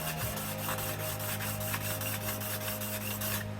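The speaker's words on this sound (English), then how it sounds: "I'm gonna use my sharpening stone, which this one is a pretty high grit. This is like 1200. And I'm just gonna go back and forth on it." A card scraper rubs back and forth on a 1200 grit sharpening stone in a steady run of rasping strokes, about three or four a second. The scraping is close and clear, with no talking.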